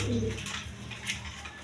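A pair of red Gola pigeons gives a short burst of low cooing at close range, fading into a faint, steady background.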